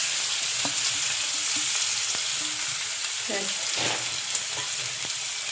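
Onion frying in oil with cumin, a dense steady sizzle close by, broken by a few soft scrapes and clicks of a utensil, with no voices.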